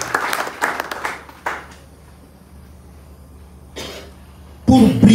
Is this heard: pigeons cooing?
no